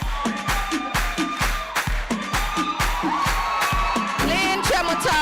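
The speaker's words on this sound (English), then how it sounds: "Clap, clap, clap, clap." An audience at a Texas community association meeting claps in unison, a steady, evenly spaced beat of loud group claps over music with a strong low pulse.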